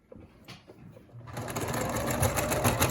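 A sewing machine stitching around the edge of a fabric square for a surgical mask starts after a second of near quiet, then runs in a fast, steady rhythmic whir, close and loud.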